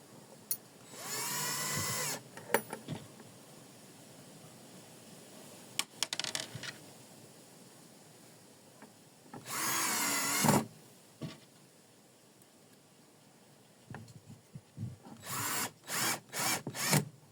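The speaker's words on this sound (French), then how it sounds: "là où je mets les vis" Power drill driving screws into a wooden low-consumption beehive, with several separate whirring bursts of a second or so each, close and fairly loud, separated by quiet pauses and light handling noises.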